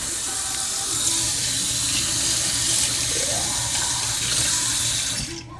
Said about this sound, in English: That rinse my hand off.